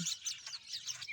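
Baby birds chirping in a tree, used as a story sound effect: a continuous run of thin, high tweets and cheeps, fairly close and steady, with no voices over it.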